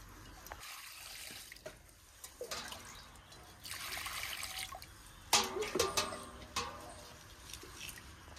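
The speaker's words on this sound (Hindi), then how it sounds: "वर्तमान चावलटा भी टिके धोई दबा" Biryani rice being washed in water by hand, with trickling, dribbling and splashing sounds that come in uneven bursts, louder splashes toward the end, close by and without talk.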